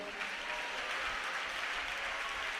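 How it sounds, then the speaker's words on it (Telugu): A church congregation claps together in sustained, dense applause that holds steady and fills the room for a few seconds, with no speech over it. "కొట్టడం ఒకసారి చప్పట్లు చూద్దాం ఎట్లుంటుందో"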